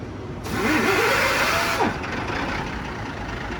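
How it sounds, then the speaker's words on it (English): A truck engine is cranked by an air starter with a sharp pneumatic hiss, then catches and settles into a steady idle rumble, nearby and without talk. "let's start this truck with the air starter"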